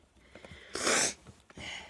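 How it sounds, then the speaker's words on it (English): Wet nasal sniffling from a person sorting vintage rickrack, seam binding and lace in a craft room: one loud sharp sniff-snort burst in the middle, with faint breathy noises before and after, close to the microphone. "Excuse my sniffling, I'm sorry."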